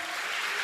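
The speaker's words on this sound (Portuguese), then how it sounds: "Você pode aplaudir ao Senhor?" A Portuguese-speaking church congregation applauds in a short, dense burst of steady clapping from a crowd.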